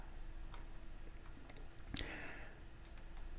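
A few faint, sharp computer mouse clicks over quiet room tone, one more distinct click near the middle, sparse and close.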